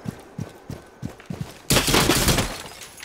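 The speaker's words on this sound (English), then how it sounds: "Shooting on the cameras, man." In Rainbow Six Siege, gunfire is aimed at security cameras: a string of evenly spaced single shots, then a loud, dense burst that sounds like shattering or breaking.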